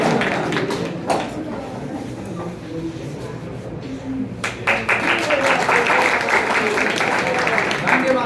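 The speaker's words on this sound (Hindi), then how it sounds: "एक बार तालियां दीजिए" An audience at a school prize ceremony for toppers applauds in a steady patter of clapping, with a few louder claps and talking over it.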